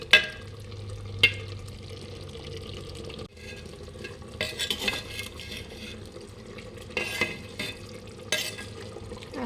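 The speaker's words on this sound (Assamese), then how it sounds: "কম জুইত মই ভাজি আছো" Chicken frying over low heat in a pan, with a quiet steady sizzle and occasional clinks and stirring noises, and no talking.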